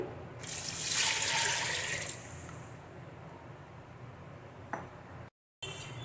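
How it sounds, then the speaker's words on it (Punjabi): Water poured into mixed dal in a pressure cooker, a bright rushing splash lasting about two seconds near the mic, then fading to quiet kitchen background with a small clink. "ਹੁਣ ਅਸੀਂ ਦਾਲ ਦੇ ਵਿੱਚ ਪਾਣੀ ਪਾ ਦਵਾਂਗੇ"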